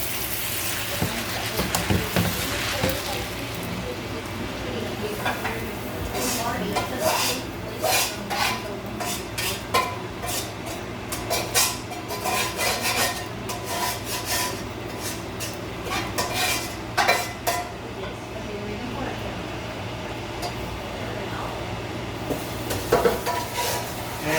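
Duck legs and dumplings being plated in a home kitchen, with dishes, pots and cutlery clinking and scraping in bursts of light clatter, close by, under steady background hum and no talk.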